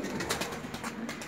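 Homing pigeons coo softly and repeatedly in a loft, a low throaty murmur pulsing steadily at close range with no voices over it.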